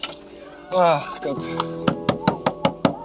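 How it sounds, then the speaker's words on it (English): After a spoken exclamation, a door is shut amid a series of about six sharp, evenly spaced knocking thuds that ring close and loud. "time to close the door"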